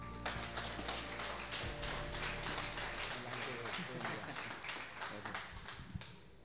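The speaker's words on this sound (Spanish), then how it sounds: "lo recibimos con un fuerte aplauso" Church congregation breaks into applause, a faint steady patter of many hands clapping with scattered taps and murmuring voices, fading toward the end.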